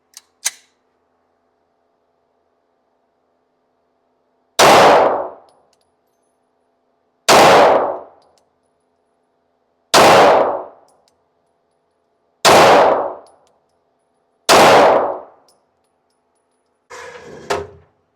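Five loud, sharp rifle shots from a Ruger firing Blazer 115-grain rounds during an accuracy test, evenly spaced about two to three seconds apart, each with a short ringing decay, close and with no talk.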